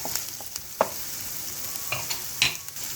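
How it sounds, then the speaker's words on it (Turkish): Chopped onions and green sivri peppers sizzle and fry in a pan, with a steady crackle broken by a few sharp clacks as a utensil stirs them. "Soğanımızı öldürdükten sonra yeşil sivri biberlerimizi tavamıza alıyoruz"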